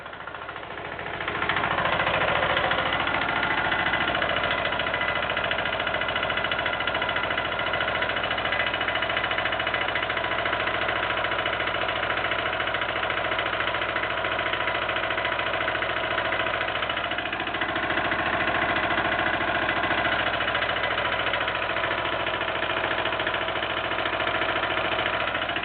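A Petter AC1ZS stationary engine starts up and runs steadily at a constant ticking, thudding rhythm, loud and close for over twenty seconds with no talk.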